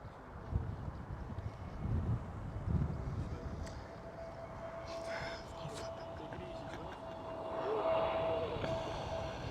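EasyJet Airbus A320neo airliner at Schiphol Amsterdam, a steady broad jet roar with wind noise on the microphone and a faint sustained engine whine, swelling slightly toward the end; soft voices murmur at times.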